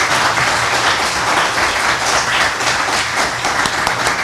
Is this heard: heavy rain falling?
no